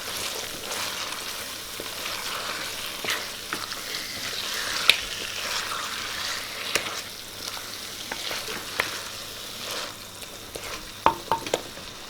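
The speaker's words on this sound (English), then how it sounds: "I want to mix the paya into the masala." Mutton trotters stirred through a frying masala in a pot, a continuous hiss of sizzling oil broken by scattered scraping and clacking spoon strokes, close and steady with no talking.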